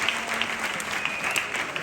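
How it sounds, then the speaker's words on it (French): Audience clapping at a school year-end gathering, a short burst of dense, steady applause from a crowd nearby. "J'aimerais que vous les applaudissiez bien fort."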